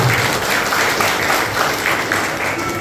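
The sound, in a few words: audience applause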